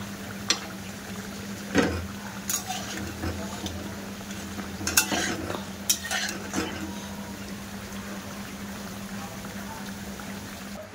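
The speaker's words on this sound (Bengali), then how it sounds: "সব পিঠাগুলো একটা একটা করে দিয়ে ভাজা করে নেব।" Palm-leaf pitha frying in hot oil in a pan, a low steady sizzle broken by occasional clinks and scrapes of a utensil against the pan, with no talking.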